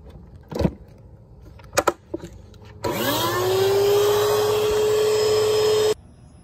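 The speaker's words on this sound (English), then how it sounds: "So I'm gonna run it for a little bit longer and see if it gets any more out" A wet vacuum switches on abruptly and runs with a steady loud whine and rushing suction while drawing water from an AC air handler's drain line, after a few scattered knocks and handling clunks, then cuts off sharply.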